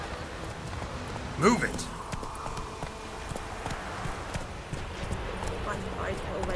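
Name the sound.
horse Roach's hooves clip-clopping in The Witcher 3 video game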